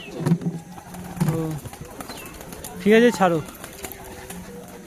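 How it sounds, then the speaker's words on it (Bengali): A male pigeon coos in a low, throaty burst close by, while people talk briefly before and after it. "নর পায়রা"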